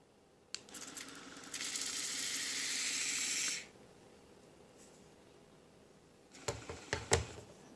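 A sharp click followed by a steady, close hissing spray from a Dash DBD200GBWH04 electric butter sprayer lasting about three seconds, then silence and a few clunky handling knocks.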